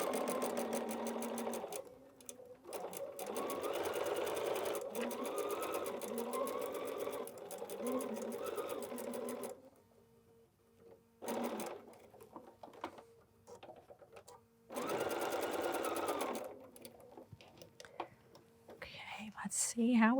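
A sewing machine runs a seam on a quilt block in long, loud bursts of steady whirring, with pauses between runs where a voice talks quietly.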